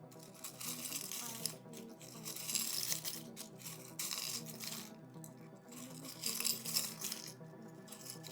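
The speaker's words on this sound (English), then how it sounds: "let's shuffle out some charms" Small charms are shuffled by hand for a card reading, producing light clinking, rattling bursts that come and go in uneven handfuls, fairly close and quiet.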